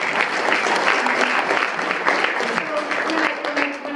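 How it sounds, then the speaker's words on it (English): An audience at a ministerial welcome event bursts into sustained, dense applause that stays loud and even throughout, with a few voices mixed into the crowd noise. "Clap for Rob."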